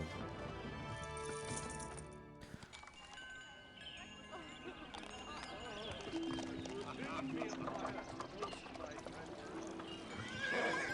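Horses in the video game Zeus: Master of Olympus neigh and clop their hooves amid a busy mix of game sounds, a faint whinny near the start and hoofbeats throughout.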